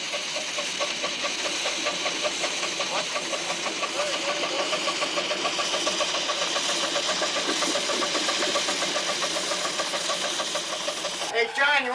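A 2.5-inch scale narrow gauge model locomotive modeled on Colorado and Southern engines, running on 7 1/2-inch track, gives a steady rhythmic chuffing and mechanical clatter at close range, continuous for the whole stretch, with a brief louder disturbance at the end.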